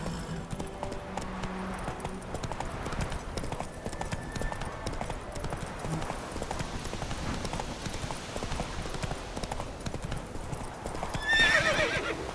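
Hooves of the horse Roach galloping in The Witcher 3: Wild Hunt, a steady rapid clip-clop running throughout with a neigh near the end, close and continuous.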